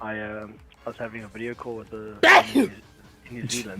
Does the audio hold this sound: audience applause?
no